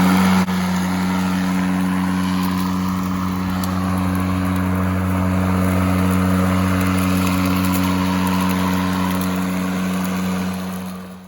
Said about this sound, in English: Karen, is this your first time operating an electric lawnmower?